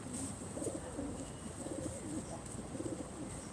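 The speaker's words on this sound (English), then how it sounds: "Whoa, pigeon fight." Pigeons scuffle and coo on a New York City street in Soho at sunrise, with soft repeated cooing and fluttering close by over a steady, faint urban hum.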